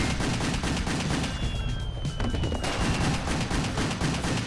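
Upgraded pistol gunfire in the Xbox 360 game Wet, a dense run of rapid shots firing continuously and loudly throughout.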